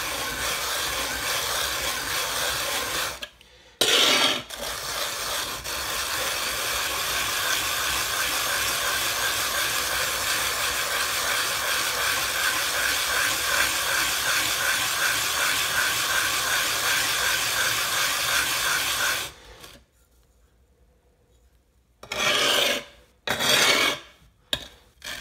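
A washita sharpening stone is rubbed flat with granite powder in a steady, continuous rasping scrub that runs loud for most of the stretch, pauses briefly near the start, then stops and gives way to a few short scrapes at the end.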